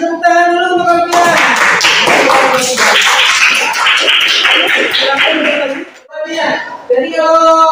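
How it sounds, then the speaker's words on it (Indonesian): A class of students applauding together, a loud burst of clapping lasting several seconds, with a teacher's voice before and after it. "Tepuk tangan dulu untuk kalian"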